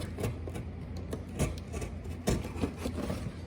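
Knife slicing through a cardboard box along a score line, quiet close scraping and rubbing strokes with small irregular catches.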